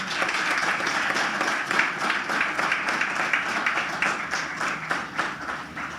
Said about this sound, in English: Ladies and gentlemen, let us applaud our children.